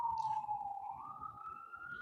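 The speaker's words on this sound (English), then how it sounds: "Every time I go live, there are sirens." An emergency siren wails outside during a livestream, a long steady tone that slowly rises in pitch, heard at a distance and fairly faint, with no talking over it.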